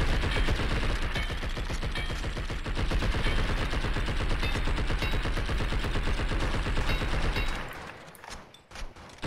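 Rapid, sustained automatic gunfire in the video game Blood and Bacon, a dense string of loud shots for most of the clip that cuts off near the end, leaving a brief quieter tail.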